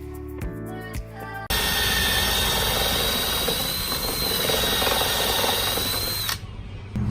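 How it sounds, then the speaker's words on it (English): A power drill bores holes for an RV modification install, starting after a few light clicks and then whining loudly and steadily for about five seconds before stopping. "Yeah, you gotta drill some holes"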